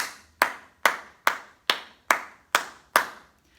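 Seven sharp hand claps ring out at an even, steady pace in a quiet room, each crisp and close with a short decay.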